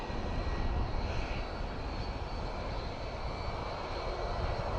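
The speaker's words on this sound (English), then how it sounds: "So there's an ATR making an intercept and KLM is moving up." An ATR turboprop airliner flying near Dublin Airport gives a steady, broad engine roar with a low rumble and faint tonal whine, constant and moderately distant, with no voices.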